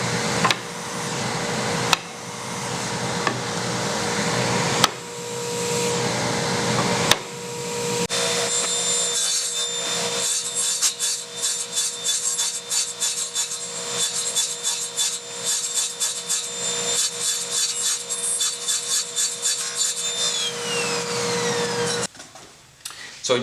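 Wood being cut in a workshop while a shop-built dust collection box runs, giving a loud continuous rasping saw-and-suction roar with uneven surges, a few knocks early on and a sudden drop near the end.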